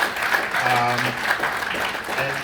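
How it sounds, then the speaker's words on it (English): A seated audience gives a round of applause for a professor after his talk on Africa's shift from geopolitics to geoeconomics, a steady wash of clapping running the whole clip with faint voices and tones underneath. "So shall we give Prof a round of applause?"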